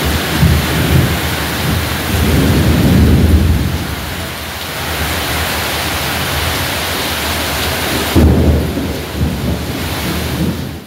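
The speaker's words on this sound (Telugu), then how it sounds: "బట్ ఉరుములు మెరుపులతో కొంచెం అయితే భయం వేసింది." A thunderstorm with heavy rain pours down steadily and loudly, with deep thunder rumbles rolling in at the start and again near the end, and no voices.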